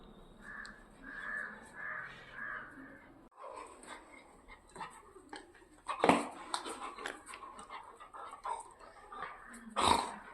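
Dogs at the door of a village house whimpering and barking with crows cawing nearby, faint at first, then sharper yelps and barks with a voice briefly audible.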